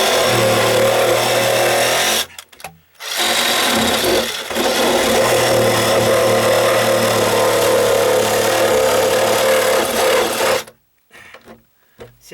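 A Sawzall reciprocating saw cuts through dry-rotted deck wood and strikes a nail, a loud, harsh, continuous rasping that halts briefly twice and stops near the end with no talking.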